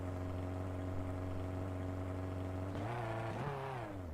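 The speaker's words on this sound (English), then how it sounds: "this car not sound so phenomenal as it sort of rumbles its way down the pit lane" Legends race car in a racing video game, rumbling down the pit lane at USA International Speedway: a steady, droning engine note that lifts in pitch near the end, heard alone with no talk.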